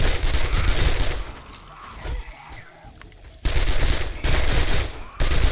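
SMG gunfire in the 7 Days to Die video game, loud, near bursts of rapid automatic fire broken by a short quieter gap, with no talking.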